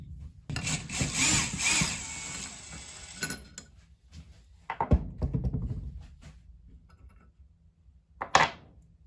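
A power tool whirs and ratchets as bolts come out of a Honda 400EX ATV engine, starting with a sustained burst of spinning and then separate shorter bursts with clinks between them, close and fairly loud.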